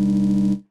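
A sample loaded into the Reason Grain synthesizer sounds a brief sustained tone, steady and close with a rich low harmonic body, then fades out after about half a second.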